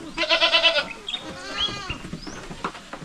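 Goats on a farm bleat loudly and nearby, one long wavering call followed by several shorter overlapping bleats from other animals, with some soft background noise.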